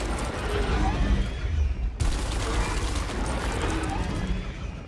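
Sustained gunfire from the turn-based tactics game Gears Tactics, a dense continuous rattle of shots against a large enemy, loud and steady with a brief break near the two-second mark.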